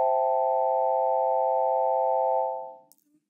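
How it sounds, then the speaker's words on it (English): A basic sine wave patch on the Ableton Wavetable synth sounds as a steady, pure sustained tone, loud and clean. It holds for about two and a half seconds, then fades out. "Simple sine wave."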